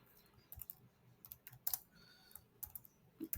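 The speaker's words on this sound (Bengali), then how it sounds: "এখানে আমরা লিখতে পারি অফিস রেন্ট" Typing on a computer keyboard in an accounting entry, a quiet close series of irregular key clicks with short pauses between bursts and a few sharper taps, with no talk.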